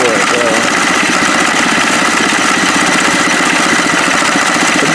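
A car engine idling steadily with the clutch engaged on a 2019 ATLTF build-off project car, producing a loud, close, even rumble that holds constant throughout.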